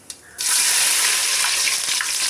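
Fennel, bay leaf and onion drop into hot oil in a pan, bursting into a loud, close, continuous sizzle after a brief quiet moment and a small clink.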